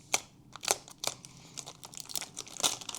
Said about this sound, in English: Our little hobby knife, because they're all taped shut as usual.